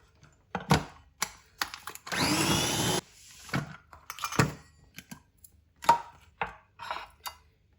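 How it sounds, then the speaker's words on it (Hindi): A small kitchen grinder whirs loudly for about one second as it turns bread into crumbs. Scattered knocks and clatters come before and after the burst. "इसके अंदर डाल के इसको हम ब्रेड क्रम्स बना लेंगे।"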